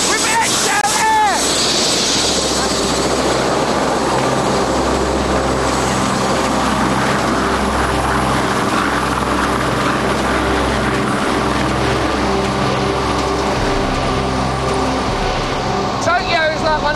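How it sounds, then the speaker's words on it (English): A helicopter on a night flight over Tokyo keeps up a steady, loud rotor and engine drone with a low, even throb, and someone talks over it throughout. "One of the best ways to see Tokyo City is by helicopter at night."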